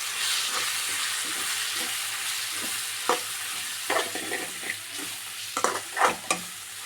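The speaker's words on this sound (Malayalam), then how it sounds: "അര സ്പൂൺ പെരുജീരക പൊടി കാൽ സ്പൂൺ ഗരം മസാല ഇട്ട് നന്നായി മിക്സാക്കി കൊടുക്കാം" Ground spices like fennel powder and garam masala stir-fried in a pan for a cauliflower pepper curry, giving a steady sizzle with scattered spoon scrapes and clicks, close and alone.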